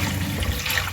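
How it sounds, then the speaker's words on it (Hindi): Water, 2 litres, pours into a pot on the stove in a steady, full splashing stream, close and loud for the whole moment. "अब इसमें मैं 2 लीटर पानी डाल रही हूँ।"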